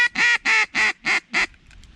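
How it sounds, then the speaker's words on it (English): A loud duck call blown in five sharp, evenly spaced quacking blasts, close up and with nothing else sounding, used by a hunter on the Rio Grande for ducks traveling on the river. "this call is much louder than the Jace Robertson call"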